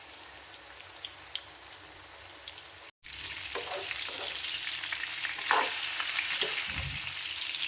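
Chicken pieces frying in a pan of hot oil give a steady close crackling sizzle that swells after a brief cut, with scattered pops and a low stir or shift near the end.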